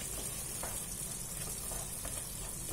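Chicken and olive sauce, with honey melting in, is stirred in a pan under a soft, steady sizzle, the spoon making faint, irregular scrapes.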